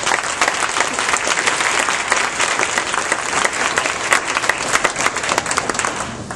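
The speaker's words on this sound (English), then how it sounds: "let's just give a round of applause" An audience of teachers breaks into steady, dense applause, continuous clapping at full strength for the whole stretch.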